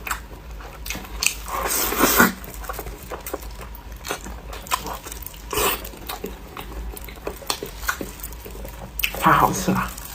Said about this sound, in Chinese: 来口肘子皮吧